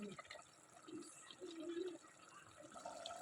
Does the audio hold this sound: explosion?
no